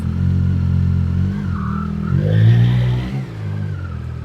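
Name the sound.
Yamaha MT-09 Y-AMT motorcycle pulling away in first gear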